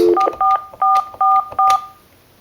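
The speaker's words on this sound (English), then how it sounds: "You can go ahead and get dial tone, and you can do a simple test call" Five quick, loud telephone keypad tones beeping in a regular rhythm while dialing a test call on a VPN phone, each a short two-tone chirp, with no talking.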